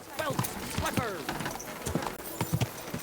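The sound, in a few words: horse hooves trotting in the video game Kingdom Come: Deliverance II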